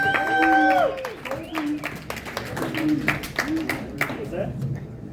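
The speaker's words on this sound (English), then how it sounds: "Please give a huge round of applause for your next comedian, Ruth Miller, everybody." An audience at a comedy show applauds and cheers to welcome the next comedian, with a host's voice speaking loudly over the start before the clapping carries on under talk.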